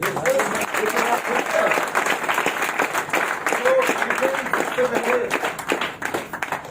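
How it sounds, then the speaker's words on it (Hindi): An audience claps continuously, a dense wash of applause from a crowd, with voices talking faintly underneath. "आपके लिए आज कुछ लोग ताली बजा रहे हैं।"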